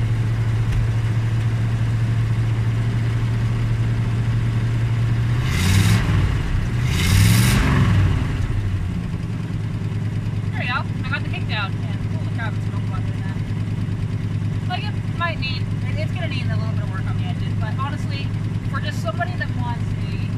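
A 1977 GMC C10 truck idles with a steady low engine hum, then revs up twice in quick succession before settling back to idle while someone talks over it.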